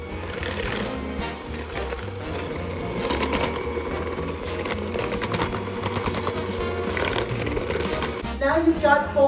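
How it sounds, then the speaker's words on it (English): An electric mixer creams butter and sugar together in a bowl for snickerdoodle dough, giving a steady, fairly loud motorized whir that runs continuously for the whole stretch. "you can take your electric mixer and combine them"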